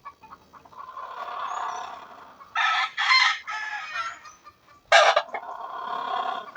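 Chickens at a small chicken farm, with loud nearby crowing from roosters in several drawn-out calls and a sharp final crow, over softer ongoing clucking.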